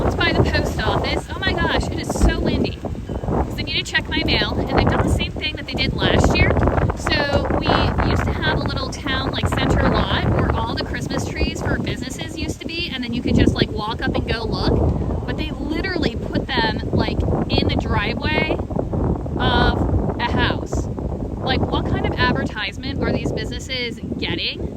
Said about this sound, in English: Oh my gosh, it is so windy.